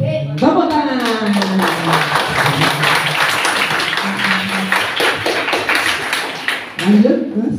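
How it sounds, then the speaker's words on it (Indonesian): Schoolchildren clapping at an elementary school assembly, quick scattered claps under loud children's voices and adult speech, close and lively with a burst of talk near the end. "Tepuk tangan"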